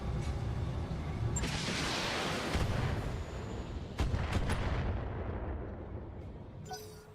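Volleys of long-range missiles fire in the mech combat game Battletech, a dense rumbling barrage of launches and blasts that rolls on steadily, with a couple of sharper cracks partway through and fading near the end.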